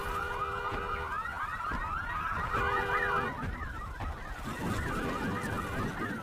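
Several car alarms wail and honk together with warbling, repeating tones, sustained and fairly loud throughout, with no voices.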